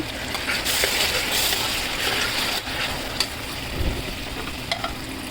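Onion, chilli and ginger-garlic paste fry in a pan, a steady sizzle with occasional scraping stirs and light clinks, close and continuous.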